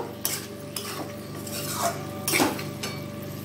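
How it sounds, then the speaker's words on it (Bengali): Potato and cauliflower pieces dropped into a pot of fried spice paste for a Bengali rohu fish curry, then stirred. The spoon knocks and scrapes in several separate clatters, with a soft sizzle underneath. "আমি এবার আলু আর ফুলকপিটা দিয়ে দেব"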